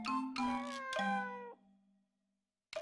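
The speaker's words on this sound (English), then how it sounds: "A cat?" A cat in the visual novel If My Heart Had Wings lets out two drawn-out, clear meows back to back, close and loud, then silence before a brief cut-off sound.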